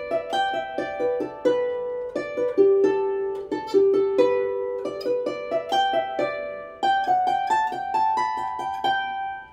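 Harp playing the B part of an Irish session tune, a lively stream of plucked, ringing notes with a bouncing melody over a low bass line, close and clear, with no voices.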